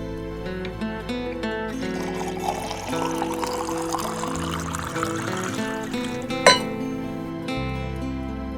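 Water is poured into a glass in a home, a steady pouring trickle running for several seconds over faint background music, with a brief clink near the end.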